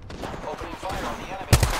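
Gunfire in the video game Apex Legends, with a sharp loud burst of shots cutting in near the end after a stretch of quieter game sounds and voice chatter.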